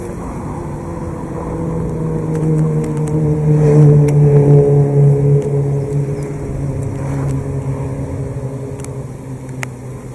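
A dense, steady buzzing hum of a honey bee swarm that swells louder midway and then eases slightly, continuous and close, with no voices.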